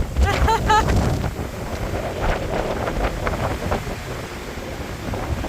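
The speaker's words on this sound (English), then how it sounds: "It's very, very, very windy." Strong wind buffets and roars across the microphone in continuous gusts on a coastal trail in South Korea, loud and close, with a brief voice at the start.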